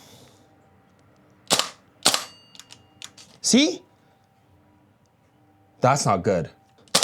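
A broken AKX airsoft gun fires in short full-auto bursts of sharp rapid cracks, with loud isolated shots and a longer rattling burst near the end; a person speaks briefly between the shots.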